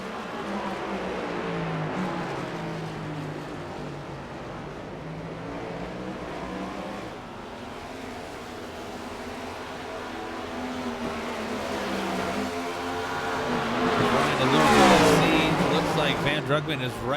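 Race cars run nose to tail in a sim racing game on the Daytona road course, engines droning and revving continuously, rising to a louder, higher whine near the end, under steady commentary talk.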